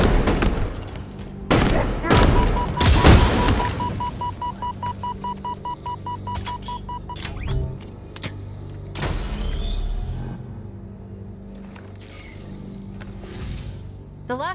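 Gunfire in the Halo Infinite campaign, with several sharp loud shot bursts early and a rapid burst of rounds, followed by scattered booms and mechanical game effects with a voice speaking.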